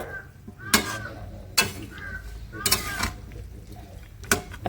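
Spinach and vegetables stirred in a cooking pot for a Bengali palong shak chhechra, four or five sharp metallic scrapes and clanks of a spoon against the pot at irregular intervals, close and clear.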